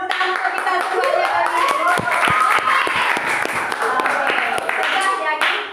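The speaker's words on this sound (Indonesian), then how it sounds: "tepuk tangan untuk kita semuanya." A small group applauds together at the end of a teachers' module session, a patter of hands mixed with cheerful voices and talking throughout.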